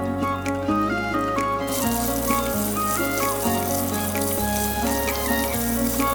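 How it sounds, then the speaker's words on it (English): Mustard and fenugreek seeds frying in hot oil give a steady, moderately loud sizzle that runs throughout under prominent background music. "Leave that to fry till the seeds pop"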